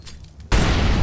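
An incendiary grenade goes off in a shooter video game with a sudden loud whoosh-boom about halfway through, followed by a sustained roaring burn that stays loud to the end.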